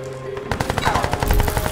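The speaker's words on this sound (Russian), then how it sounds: "Вот так, отлично, пулемет нас тут же увидел." Rapid machine gun fire in the Crysis 3 video game, a loud, dense burst of repeated shots close up, continuing without pause and with no speech over it.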